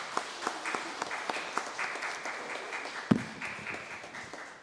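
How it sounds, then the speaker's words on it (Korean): A church congregation applauds a women's choir, with warm, steady clapping from many hands at moderate distance, fairly soft overall and marked by one sharper knock partway through. "우리 권사 찬양대에 격려의 박수하도록 하겠습니다"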